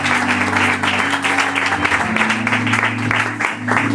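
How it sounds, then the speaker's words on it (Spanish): Church congregation applauding at a service, dense sustained clapping that fills the whole stretch at steady loudness, with a low musical drone or organ tone underneath. "Dame un fuerte aplauso al Señor."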